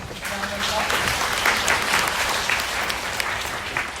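A conference audience applauds at an industry panel event, with dense sustained clapping filling the room at steady loudness throughout.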